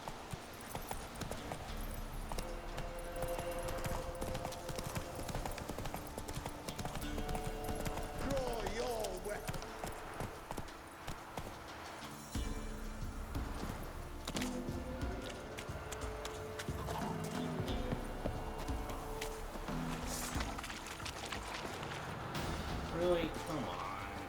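Roach the horse trotting in The Witcher 3 on PS5, hooves clip-clopping in a steady rhythmic gait over game music and ambience, with someone talking over it.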